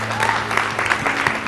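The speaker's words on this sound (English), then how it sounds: "Let's give him a round of applause as he comes to the stage." Audience applause at a high school poetry recitation contest as a contestant walks to the stage, a brief burst of steady clapping from a room full of people.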